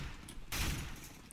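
A short, loud burst of gunfire in a CS:GO jailbreak match hits suddenly after a quiet moment, then trails off.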